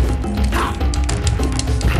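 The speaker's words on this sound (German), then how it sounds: "Oh, da kommt noch ein Hundi." A dog in the video game Soul Reaver 2 gives a few loud, close barks and yips over a busy game soundscape with music and background effects.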